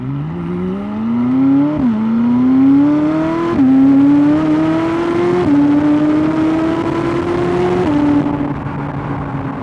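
A 2016 McLaren 570S supercar engine pulls hard through the gears, rising whine repeatedly climbing then dropping at each upshift, loud and close from inside the car.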